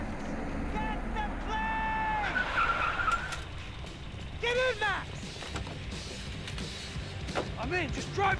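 Car driving and skidding in Max Payne 3, with tires squealing in long sliding whines over engine rumble, while people talk and shout loudly in between.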